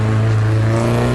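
A car revs and pulls away in a film scene, a loud, close engine note with rising harmonics over about a second, without speech.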